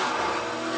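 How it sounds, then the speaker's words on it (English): A car engine roars with tire squeal in a racing video game, a brief, loud, continuous burst of engine and tire noise. "is the engine noise, the tire squeal, things like that, the exhaust crackles and pops, the turbo."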